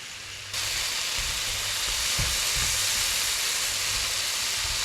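Apples softening in a hot pan give off a steady, close hiss and sizzle that starts abruptly and holds at an even level with no talking.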